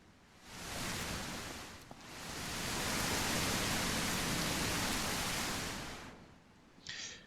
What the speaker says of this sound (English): that rain is loud